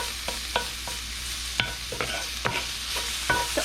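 Bell peppers, onions and garlic frying in a pan, a steady soft sizzle broken by repeated sharp scrapes and taps of a utensil stirring, close and without talk.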